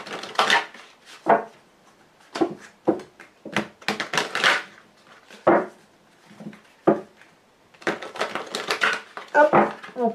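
Lenormand fortune-telling cards being cut and handled on a table, a series of short sharp taps and riffling clicks in irregular bursts, close and clear with no talking.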